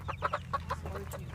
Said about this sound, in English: So I'm gonna grab a chicken.